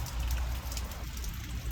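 Steady rain falls on a garden, a dense close patter of drops striking plants and soil that holds an even level throughout without any voices.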